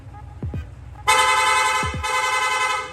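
A loud motorcycle horn, on a Yamaha Sniper 155, blares in two sustained bursts over a low idling engine, with faint clicks before each blast.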